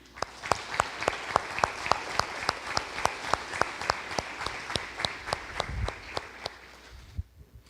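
A church congregation claps in applause to welcome a pastor, with a steady rhythm of sharp claps at regular intervals that stops abruptly near the end.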